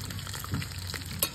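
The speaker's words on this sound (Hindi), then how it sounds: "थोड़ा सा लहसुन डाल देंगे। भूनना है" Garlic frying in a pan for a potato and fenugreek dish, giving a steady close sizzle with a few light stirring scrapes and no talking.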